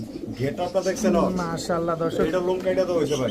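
Lahori pigeons cooing close by in a loft, soft repeated warbling coos that overlap throughout, with someone talking over them.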